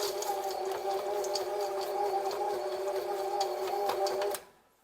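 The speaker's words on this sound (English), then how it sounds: "And I mix them with the mixer." An electric mixer working chocolate chips into cookie dough, a steady close motor whine with rhythmic clicking as the chips knock about, cutting off abruptly near the end.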